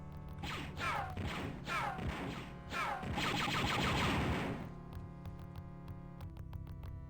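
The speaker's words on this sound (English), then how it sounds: "Someone's shooting at me." Blaster fire in the game Star Wars: Dark Forces erupts as a loud, dense volley of crashing shots for several seconds, then tails off into a few sharp isolated cracks over a humming background.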